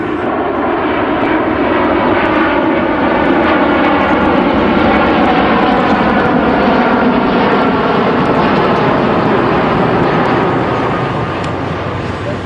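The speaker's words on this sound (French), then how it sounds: "On attend que l'avion ait fini son vol et se pose" A loud, continuous roar of an Airbus A380's jet engines fills the whole stretch, steady and close, as it passes low landing at Istres air base in southern France.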